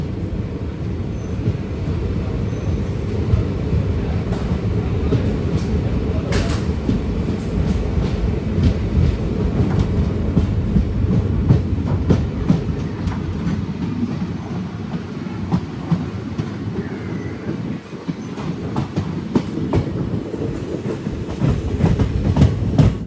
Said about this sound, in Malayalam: പുനലൂരിൽ നിന്ന് അങ്ങനെ ഇതാ ട്രെയിൻ എടുത്തിരിക്കുകയാണ്.